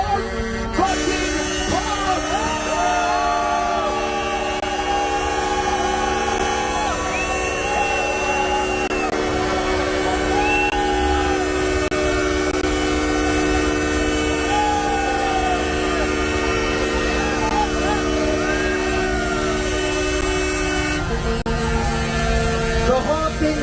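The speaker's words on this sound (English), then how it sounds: "The honking will continue until the freedom improves." Truck air horns blare at a convoy protest rally in Ottawa, sustained, loud and overlapping tones that sound nearly nonstop, along with a steady engine rumble and some crowd noise.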